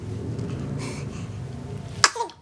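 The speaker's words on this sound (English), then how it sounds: "You got the sneezing down," A baby's single sharp little sneeze near the end, after a couple of seconds of soft background murmur and breathing, with a brief trailing sound.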